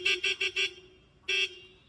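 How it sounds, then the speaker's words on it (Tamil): A Hero Splendor motorcycle's horn honks four quick times in a rhythmic burst, pauses, then gives one more longer honk, loud and close. "ஹார்ன் அடிங்கண்ணா."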